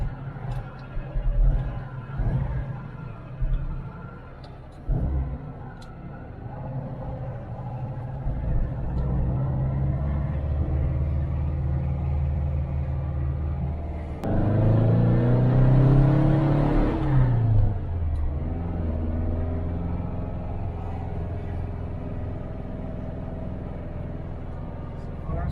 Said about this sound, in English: It's actually running and driving.